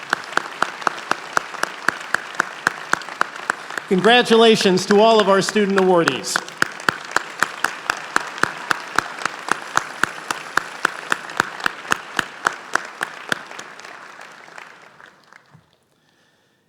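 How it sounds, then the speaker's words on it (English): Sustained applause from a commencement audience for chemistry student awardees, dense rapid clapping under a speaker's amplified voice, fading out near the end. "he deserves a round of applause anyway"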